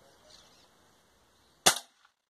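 A single sharp crack from an explosive 5.5 mm airgun slug pellet hitting a block, loud and sudden, bursting out of a quiet background and decaying within a fraction of a second.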